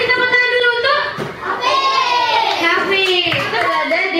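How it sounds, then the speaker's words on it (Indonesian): A fourth-grade class of children claps hands together in a classroom, a short burst of applause mixed with a teacher's voice and children's chatter. "kasih tepuk tangan dulu untuk"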